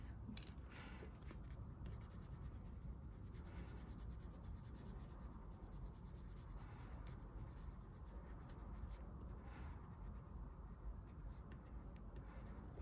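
A colored pencil rubbing across paper in steady continuous scratchy strokes, close and quiet, with no talking.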